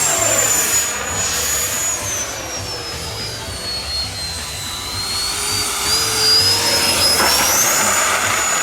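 An FMS Rafale 64mm electric ducted-fan RC jet roars past with a loud, continuous whine that shifts in pitch as it flies by, with no talk.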